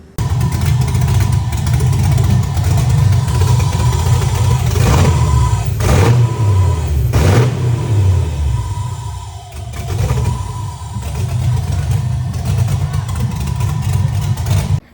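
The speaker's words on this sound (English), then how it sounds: "let's go ahead and crank this thing up so you can hear it run for the first time" A repaired, frame-damaged Mercedes car engine runs at a low, rough idle, loud and close, with a couple of brief revs rising and falling mid-way before settling back to a steady rumble.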